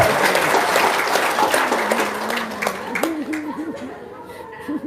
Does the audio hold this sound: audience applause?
yes